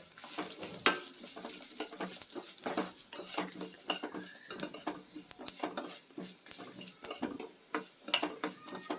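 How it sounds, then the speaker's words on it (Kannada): Whole spices roasting in hot oil for Melukote-style puliyogare gojju, with a utensil repeatedly scraping and clattering against the pan over a steady sizzle, close and fairly loud throughout. "ಎಲ್ಲ ಒಟ್ಟಿಗೆ ಹಾಕಿದ್ದೀನಿ, ಚೆನ್ನಾಗಿ ರೋಸ್ಟ್ ಆಗಲಿ."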